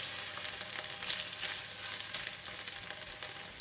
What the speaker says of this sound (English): Add in all of the mustard green stems